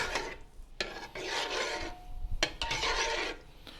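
A spoon scrapes and rasps against the pot while stirring cooled broth seasoned with fish sauce for kimchi, giving rough rhythmic strokes with brief pauses, close and fairly quiet, with no talking.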